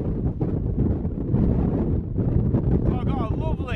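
Wind buffeting a microphone outdoors on a photography outing, a loud, uneven rumbling roar that gusts throughout, with some talk or voice-like sounds mixed in toward the end.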